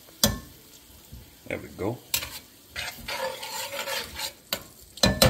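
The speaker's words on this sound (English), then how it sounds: "That's simmering real good." Diced tomatoes with garlic and herbs bubble and sizzle in a pan as they are stirred, scraping and clattering now and then against the pan close by, and someone speaks briefly.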